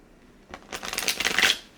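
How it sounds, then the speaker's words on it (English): A brief riffle of tarot cards being shuffled, a crisp fluttering burst lasting about a second, close and fairly loud. "I have one more deck to shuffle real quick before we look at your stuff."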